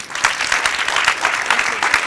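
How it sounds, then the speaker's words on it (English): Audience applause for a minister at a conference on women, peace and security, a loud, sustained crowd clapping with a dense, even texture from start to end. "So can we get another round of applause for the Minister?"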